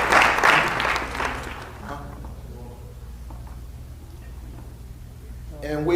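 A town hall audience gives a short burst of applause during introductions, loud at first and then fading out into quiet room tone before a voice starts up again.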